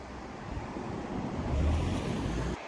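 A river flows through snowy Japanese countryside in winter, a steady broadband rush of water with wind noise on the microphone, fairly loud and continuous with no voices.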